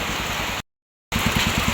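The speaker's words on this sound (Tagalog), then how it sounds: "napakalakas po ng ulan" Heavy typhoon rain pours steadily as a dense, loud hiss with a low rumble beneath, briefly cut to silence midway before resuming, with no voices.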